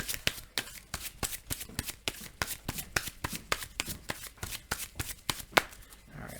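A deck of playing cards for the Marvel Legendary deck-building card game is riffled repeatedly in quick, crisp bursts close by, each shuffle a sharp papery flutter in a steady rhythm.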